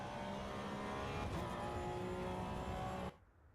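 Simulated car engine in the racing game Assetto Corsa EVO, a steady loud drone with rich harmonics held for about three seconds before cutting off abruptly.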